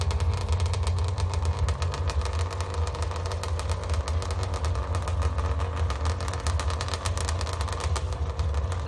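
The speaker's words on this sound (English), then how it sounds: "So we're gonna run this motorcycle" A drag racing motorcycle at the Avenal race track runs steadily, its engine a loud continuous rasp with a rapid stuttering pulse, close and sustained throughout without any talk.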